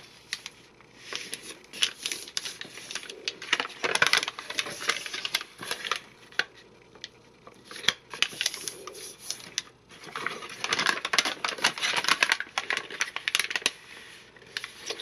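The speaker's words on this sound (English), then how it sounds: "I love that paper sound." Paper being folded and creased by hand for a bookmark bellyband, close up, with crisp crackling rustles in bursts of handling and short quiet pauses between.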